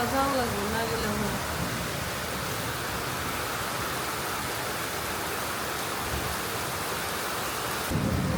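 Heavy monsoon rain falls in a village while thunder rumbles, a thick continuous roar of downpour, with a brief voice-like tone at the start and a sudden burst of noise near the end.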